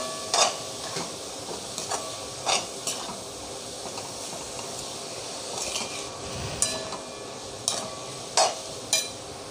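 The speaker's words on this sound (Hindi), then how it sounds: "इसको थोड़ी देर हम तलने देंगे" Radish frying in a pan, with a soft, steady sizzle under scattered clinks and scrapes as it is stirred, fairly quiet and close, no talking.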